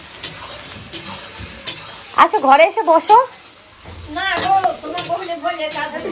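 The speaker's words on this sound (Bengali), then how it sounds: "এটা বেরেস্তার জন্য ভাজা হচ্ছে।" Onions frying in oil for birista, the crisp fried onion topping for a home-cooked biryani, sizzle steadily under a woman's close, animated chatter, with a few sharper clinks and stirring scrapes in between.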